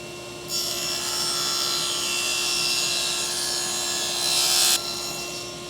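A saw resawing a wooden board for a grain-matched box, a steady, loud, continuous rasping cut that runs unbroken for about four seconds and then stops abruptly, with no voices.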